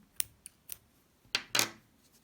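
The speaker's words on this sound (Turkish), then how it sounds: "İçinden geçirip bir tane zincir çekip İpimi kesiyorum çünkü başka bir renge geçeceğim yine" Scissors snip through crochet yarn while a colour change is made on a crocheted motif, giving a few short, sharp close clicks, then two louder snips near the end with no talk.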